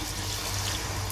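Water poured into a pan of potato and beef keema, a short steady splashing stream with no talk over it.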